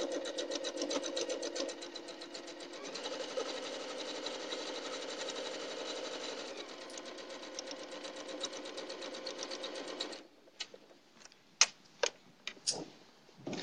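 A sewing machine runs steadily for about ten seconds, stitching quilt pieces for a log cabin quilt over pins, then stops, leaving a few sharp clicks and taps of handling the fabric.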